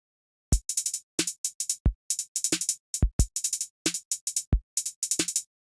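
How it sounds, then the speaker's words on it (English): Step-sequencer hi-hat pattern in quick bursts and clusters of crisp ticks, interspersed with kick and snare hits, a syncopated electronic drum loop with no voices. "the completed hi-hat pattern sounds like this"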